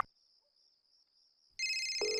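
A phone ringtone in a video game starts after a faint steady tone, then plays loudly and continuously as a bright electronic melody.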